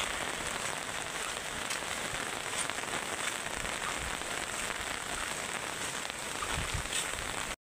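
Heavy rain from Typhoon Kristine pours steadily in Masbate during flooding, a dense, constant hiss of downpour on surfaces with no break, at a moderate level and no talking.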